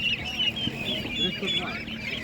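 Turkeys honk and gobble nearby in a noisy cluster at a Ukrainian animal market, with people talking underneath the birds' calls.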